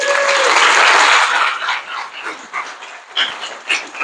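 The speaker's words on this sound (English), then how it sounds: "Round of applause" Audience applause for a talk, a dense burst of clapping at the start that thins into scattered claps and fades over a few seconds.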